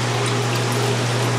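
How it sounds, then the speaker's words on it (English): Jacuzzi tub jets running after being switched on at the control box, with water rushing in as a steady, loud, continuous churning hiss and low pump hum throughout. "turns on the control box, water runs in"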